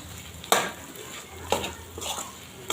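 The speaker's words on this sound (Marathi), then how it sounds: "छान हलवून घ्यायचे आहे." Boiled potatoes being stirred in a pan for a yellow potato chutney, with a few distinct scraping strokes spaced about a second apart over a faint, low kitchen background.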